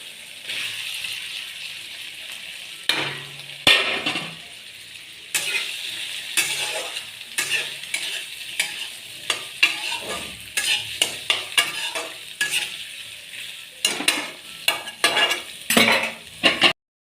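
Potatoes fry in a spiced pan for a vegetarian paneer dish, with a steady sizzle broken by repeated close scraping strokes of a spoon stirring them, sometimes clinking against the metal pan.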